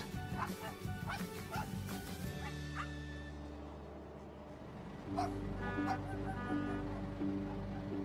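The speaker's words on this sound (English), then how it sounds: "First thing I saw when I get on the barge is a dog." A dog on a barge barks and yips several times in short bursts, mixed with background noise and some other sounds.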